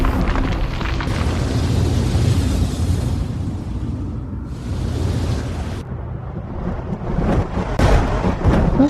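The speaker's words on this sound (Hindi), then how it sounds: "आसमान तो साफ है, तो फिर ये बादल का गरज रहे" Deep thunder rumbles through an animated Aladdin tale, a loud, continuous low roll with surging swells and crackling bursts filling the whole stretch, no voices over it.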